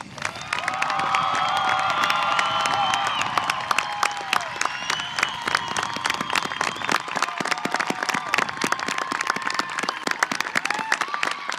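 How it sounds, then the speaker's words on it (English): A graduation audience gives the Findlay High School class of 2021 a big round of applause. Loud, dense clapping with whoops and cheers starts strong, then thins slightly into scattered, lively claps that continue to the end. "Audience, I think this class of 2021 needs one more big round of applause"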